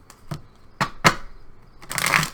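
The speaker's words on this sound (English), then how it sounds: "One more shuffle." Tarot cards are shuffled in a few quick riffling bursts, short separate flicks first and then a longer, denser shuffle at the end, close and fairly quiet with no talk.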